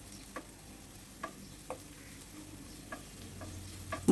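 Garlic and onion fry lightly in a pan for tomato bhorta, making a soft, steady sizzle. A few sharp clicks come from the utensil as the pieces are stirred. No one speaks.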